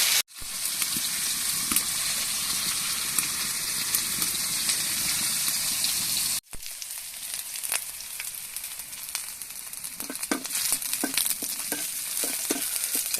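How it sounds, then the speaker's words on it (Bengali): Oil bubbling and sizzling in a frying pan, a loud, dense, steady crackle that cuts out briefly, then resumes with scattered pops and stirring scrapes, no voices. "আস্তে ধীরে তেল ফুটতেছে"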